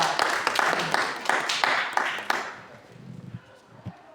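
Congregation clapping at a church service, a dense burst of applause that fades after a couple of seconds into quieter room noise with a few stray claps.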